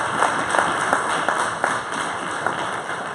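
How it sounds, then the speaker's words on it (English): Audience at a design thinking workshop applauding, a sparse smattering of claps from a small group, moderately close and steady with no voices over it. "Applause, please."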